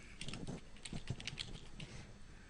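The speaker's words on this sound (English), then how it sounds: "So I'm just going to type in a name." Fingers tap out a name on a computer keyboard, a quick irregular run of light clicky keystrokes, close and fairly quiet, with no talking.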